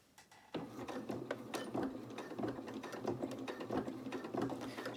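A sewing machine runs steadily for several seconds while stitching a doll dress, a few stitches forward and then back, with a close, even mechanical whir and rapid needle clatter.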